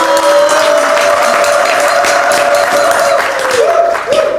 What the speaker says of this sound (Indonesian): Oke, tepuk tangan buat Pandu dong.